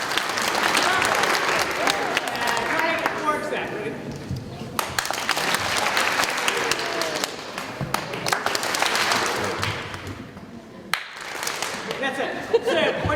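An audience at an outdoor unveiling claps together in practice, several sustained waves of loud, dense applause with brief pauses between, while a voice speaks in between.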